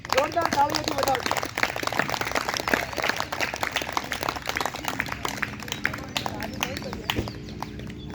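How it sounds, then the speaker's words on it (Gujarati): Loud sustained applause from a yoga aerobics class clapping together, a dense steady patter of hands throughout, with an instructor's voice talking over it. "જોરદાર તાળીઓથી વધાવજો."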